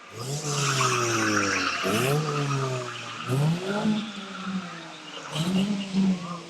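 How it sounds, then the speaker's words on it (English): Banger race cars at a stock car meeting skid and spin out, tyres squealing in rising and falling sweeps over engine noise, loud and repeated several times across the clip. "Cars being spun out of direction."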